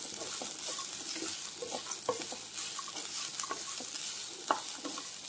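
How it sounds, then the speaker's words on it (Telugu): Fresh coconut fries and sizzles in a pan while being stirred, with soft scraping and light crackles close up throughout and no talking. "పచ్చి కొబ్బరి కూడా బాగా ఫ్రై అయ్యేంత వరకు వేయించుకోవాలండి"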